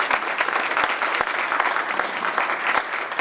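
An audience at a university athletics Hall of Fame ceremony claps in a dense, sustained round of applause, many hands patting close together for a few seconds with no talking.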